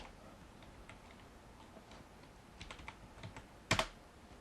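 Keystrokes on a computer keyboard while searching for Zen Coding for Notepad++, faint scattered taps building into a short burst of quick clicks near the end, with no speech.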